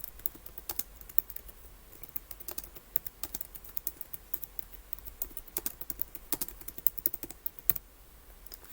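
Typing on a computer keyboard while entering text in the vi editor, a quiet, steady patter of close key clicks with brief pauses and no talk.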